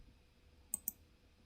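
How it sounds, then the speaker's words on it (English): Two quick, faint clicks from computer keys sound close together against a quiet background. "Clicking on the wrong or hitting the wrong key"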